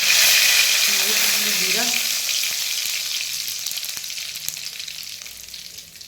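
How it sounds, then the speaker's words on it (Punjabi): Curry leaves crackling in hot mustard oil for a dal tempering, a loud burst of sizzling up close that slowly fades, with brief talk at the start. "ਸਰੋਂ ਦੇ ਤੇਲ ਦਾ ਤੜਕਾ ਲਾਵਾਂਗੇ ਆਪਾਂ ਦਾਲ ਨੂੰ"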